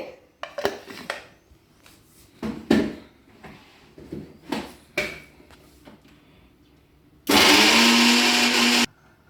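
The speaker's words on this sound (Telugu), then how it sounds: "మిక్సీ జార్లోకి వేసుకొని టమాటా అండి ఈ ఫస్ట్ మిక్సీ పట్టుకుందామండి మనము" A kitchen mixer grinder (mixie) grinds spices for a drumstick masala curry, running in one loud, steady burst of under two seconds near the end, after scattered clatter of jars and utensils.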